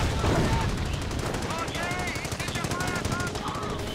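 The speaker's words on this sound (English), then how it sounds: "Base is under enemy fire." Dense, continuous machine-gun and rifle fire rattles around a base in the World War II strategy game Company of Heroes, loud and unbroken, with a voice speaking over the shooting.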